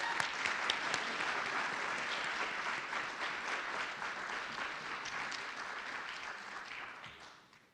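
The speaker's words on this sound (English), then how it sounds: "Let's give one more round of applause for our singers tonight." An audience gives singers a sustained round of applause, dense clapping from a crowd filling the room steadily before it tapers off at the end.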